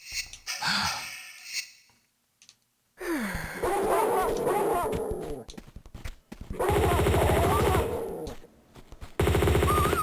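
Bursts of enemy gunfire in the Tomb Raider remastered game aimed at the player, arriving in loud clustered volleys separated by brief gaps, with no talk over them.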